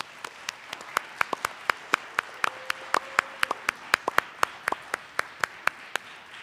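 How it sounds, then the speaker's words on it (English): Sparse, distinct individual claps ring out at a spelling bee, spaced and uneven like a few people clapping slowly in a quiet hall, with a faint hum underneath. "How about a round of applause for all of our spellers?"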